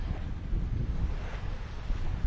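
Steady wind rushes and buffets over a sailboat off Greece, a dense, constant roar with low rumble throughout and no voices.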